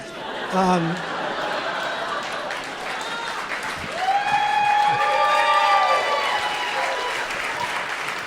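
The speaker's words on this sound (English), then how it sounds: "I'm never going to top that round of applause" Comedy club audience breaks into sustained applause with some cheering and chatter, loud and dense, swelling after a brief lull and holding steady to the end.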